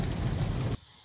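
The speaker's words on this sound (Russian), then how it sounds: "Дождь" Dense, steady hiss of rain that cuts off abruptly near the end, leaving near silence; no talking.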